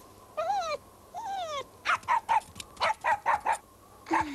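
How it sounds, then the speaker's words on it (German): A cartoon dog in the Oz Kids animated series whines twice, then lets out a rapid run of sharp, close barks, ending with a short yelp. "Hier habt ihr euren Köter."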